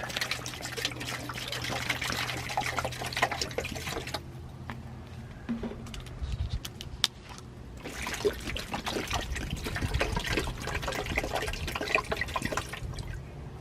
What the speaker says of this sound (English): And then we'll just pour the water in.